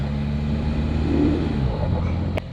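A stuck vehicle's engine revs as its wheels spin on the salt flat of the Salar de Uyuni, a loud, steady low rumble with a rising whine midway, then a brief click and a slight drop in level.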